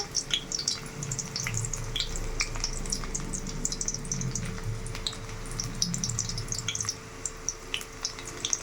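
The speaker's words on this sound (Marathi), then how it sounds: "कांदा फ्राय होत आहे" Sliced onion frying in two ladles of oil in a pan, a steady soft sizzle with scattered small pops and crackles throughout, close and moderately quiet.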